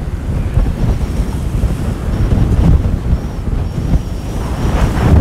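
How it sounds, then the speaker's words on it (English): Strong wind buffeting a microphone on a waterfront, a heavy continuous low rumble with gusty surges, loud and close throughout, no voices. "We're here along a very windy waterfront"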